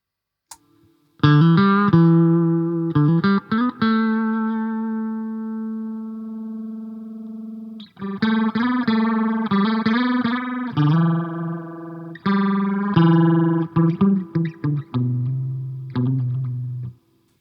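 Beetronics Larva phaser pedal sweeping as its LFO center point is shifted, the processed instrument playing held and rhythmic chopped notes with a swirling, distorted phase character and brief gaps between phrases.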